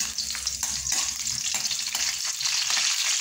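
Garlic sizzles and crackles as it sautés in hot cooking oil for a sarsyado, a steady, loud, close hiss with faint stirring scrapes throughout and no voices.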